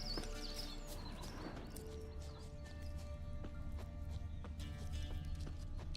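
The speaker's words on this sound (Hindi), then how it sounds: "घोड़ा है मेरा, रहने दे।" A horse in The Witcher 3 game trots with steady, moderately loud clip-clopping hooves and a brief whinny near the start, over soft background game ambience.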